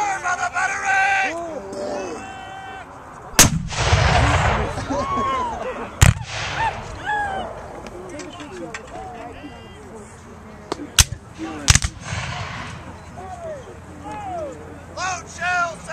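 Cannon fire from a reenactment artillery battery at a Civil War battle reenactment at Cloyd's Mountain in Dublin, Virginia: several heavy booms spaced seconds apart, rolling outdoors amid shouted commands and crowd voices.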